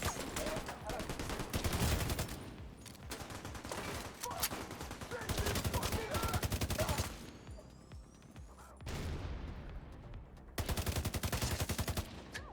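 Sustained automatic weapon fire in a shooter video game, long loud bursts of rapid shots broken by short lulls, with a voice talking quietly underneath at times.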